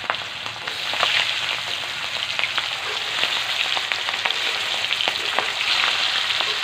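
Rohu fish pieces fry in oil in a kadai, giving a steady close sizzle with frequent small pops and crackles throughout, with no talking.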